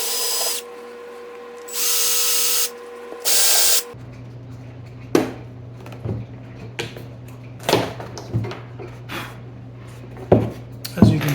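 A power drill bores a hole in a rain barrel for a water pump, short high whining bursts at first, then a steady low motor hum with scraping, rubbing knocks up close.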